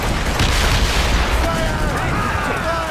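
Ship cannons in Assassin's Creed Rogue boom in a dense naval battle, heavy rumbling blasts layered over constant roar, with shouting crew voices mixed underneath throughout.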